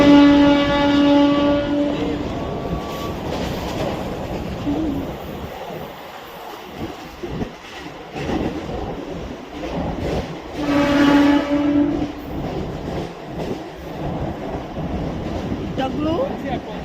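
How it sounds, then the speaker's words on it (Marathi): A train travels out from Andheri station with a loud, steady rumble and rattle of wheels, and horn-like tones at the start and again near the end. "आता आम्ही जातोय ट्रेन पकडायला अंधेरी स्टेशनवरून."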